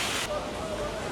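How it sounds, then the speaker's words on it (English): A waterfall feature at the adult-only pool area of the Norwegian Escape cruise ship gives a steady, broad rush of falling water, with a faint murmur of voices. "It has some kind of waterfall feature."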